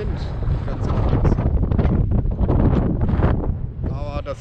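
Strong wind buffets the microphone on the North Sea coast during a bike tour along the Ems cycle path, a loud steady roar of gusts close up.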